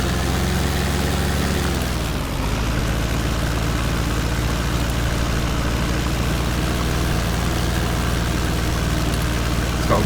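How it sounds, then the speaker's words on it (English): A powerful rented tractor with large flotation tyres on the rear runs in Farming Simulator 2015, its engine a steady, loud low drone with a brief dip in pitch early on, then a constant heavy rumble throughout with no talking. "It's got very good acceleration, very powerful tractor."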